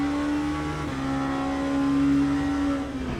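Onboard engine of an LMP3 prototype race car in Le Mans Ultimate holds a loud, steady high drone, with a brief dip as a gear shifts before the pitch climbs again, alone without talk.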